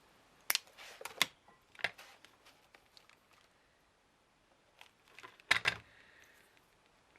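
Scissors snip through card to trim off thickness while making a gift card box, a few quiet, sharp, close cuts scattered at irregular intervals with faint rustling between them.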